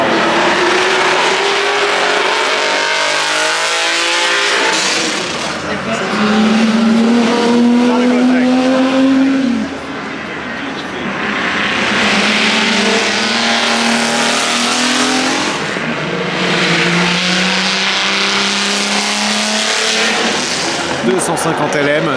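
A Ferrari 250 LM race car passes at the Goodwood Festival of Speed, its engine rising and falling in loud revving sweeps among crowd noise, with people talking close by.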